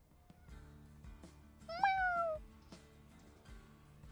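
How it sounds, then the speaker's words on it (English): A single clear cartoon cat meow rises and then bends downward, a sound effect in the Hidden Cats of London puzzle game, set against soft background music with no talking. "like the little cat sound effects"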